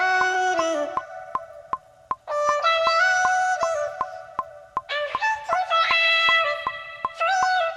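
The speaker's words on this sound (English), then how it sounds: "pitch it up and pitch it down and have them kind of singing with each other." Sampled R&B vocal pitched up into a bright, chipmunk-like singing line, with loud sustained melodic phrases over a steady clicking beat.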